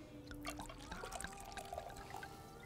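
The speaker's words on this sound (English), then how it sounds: "What is that he pouring in there? Oh, sparkling water?" Sparkling water pours and fizzes steadily in a TV drama scene, a continuous close trickle with bubbly crackle and splashing throughout.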